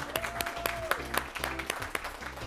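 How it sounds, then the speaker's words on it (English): Applause after a middle school Science Bowl round between Robert Goddard and Walker Mill, with moderate clapping and a few louder claps sitting under a steady hum and faint background voices. "A round of applause for that Walker Mill team."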